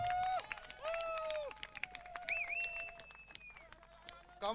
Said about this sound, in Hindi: तालियां नहीं रुकनी चाहिए यहां।